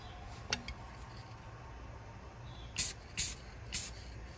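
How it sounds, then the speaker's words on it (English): Spray can puffs clear coat onto a Hot Wheels '32 Ford Hot Rod die-cast car, with three short hissing bursts near the end after a couple of faint clicks, close against a quiet room hum. "we're gonna go and hit it with another quick layer of clear coat"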